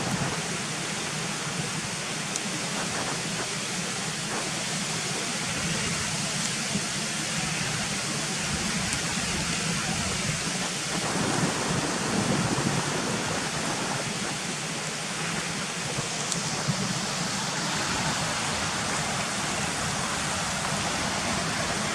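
Cotterforce waterfall runs down a wooded gully in a continuous rushing wash of water, heard close and steady for the whole stretch, with slight swells in intensity partway through.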